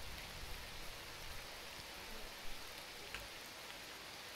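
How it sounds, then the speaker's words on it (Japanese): Heavy rain falling in the game S.T.A.L.K.E.R. Shadow of Chernobyl, a steady broadband hiss of downpour that runs unbroken at a moderate level, with a few faint thuds beneath and no talk. "いやー、雨がひで"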